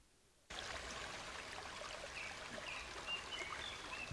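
A creek flows through a rural Korean village. Faint, steady babbling water starts after a brief quiet moment and continues as a soft, even trickle and rush, with no voices.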